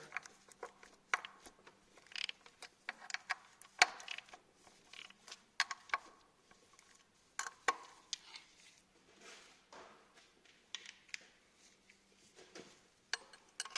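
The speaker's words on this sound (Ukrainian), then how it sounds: "Відпускаються болти на шестернях." Camshaft gear bolts are loosened on a Renault Safrane engine during a timing belt job; faint, scattered metallic clicks and ratcheting taps sound close by in a quiet workshop.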